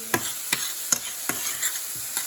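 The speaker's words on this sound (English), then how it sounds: "So let's stir this around a little bit" Frying ingredients are stirred in a pan before pinto beans go in for refried beans, with a rhythmic series of about six sharp spoon scrapes over a constant sizzle, close up and without speech.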